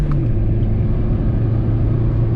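A Mahindra Scorpio engine revs steadily under acceleration in first gear, heard from inside as a loud, continuous low rumble with a constant drone and no voices over it.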